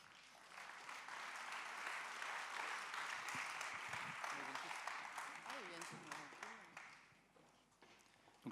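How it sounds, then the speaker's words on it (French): A crowd claps steadily in sustained applause at the opening plenary of a conference, tapering off near the end, with faint voices beneath. "Vous pouvez les applaudir."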